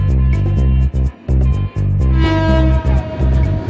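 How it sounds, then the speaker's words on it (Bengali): A train rumbles past close by with its horn sounding in repeated blasts over the rhythmic clatter of the wheels, loud and continuous with no speech. "প্রভাতী পূরবী নানা ট্রেনে চেপে আসেন।"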